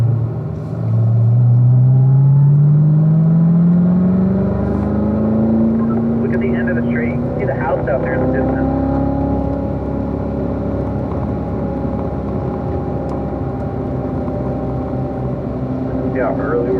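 Corvette engine on the Spring Mountain race track, loud and close, rising in pitch as it accelerates and then settling to a lower drone as it brakes for a corner. A driver talks over it.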